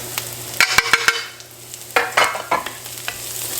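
Onion, ginger, garlic, paprika and salt sizzle in a pan, with a steady frying hiss broken by a series of sharp scraping stirs of the spoon in two clusters.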